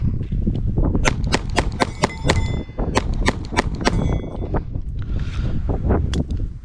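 Glock G44 .22 pistol emptying a magazine in a fast string of sharp, loud shots, about a dozen evenly spaced cracks outdoors with light wind noise and no talk.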